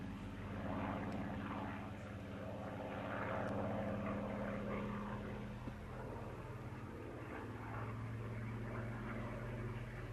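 A Lockheed U-2 reconnaissance aircraft at the Kemble airshow gives a steady, distant engine roar that holds for the whole stretch without pause or nearby voices.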